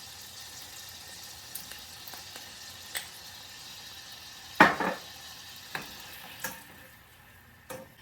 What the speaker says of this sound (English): we'll add about 2 cloves of minced garlic and let that simmer in the butter for about 2 minutes